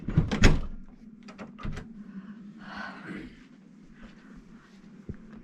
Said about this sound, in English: close the door. You're letting all the heat out.